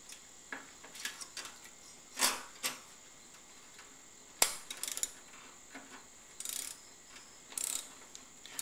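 A ratchet runs a bolt down on a lawn mower deck, giving short bursts of rapid metallic clicking at close range, separated by pauses.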